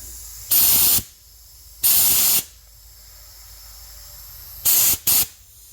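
Brake cleaner is sprayed into an old master cylinder from a 1965 Chevelle in three close, loud aerosol hisses: two long bursts about a second apart, then a quick double spurt after a quiet gap.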